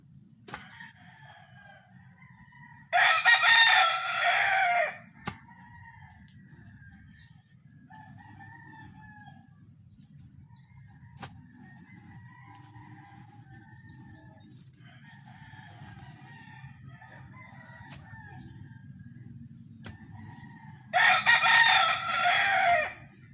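Two roosters crow loudly at a farmyard, one burst near the start and another near the end, while quieter clucking and chicken calls continue over a low steady hum.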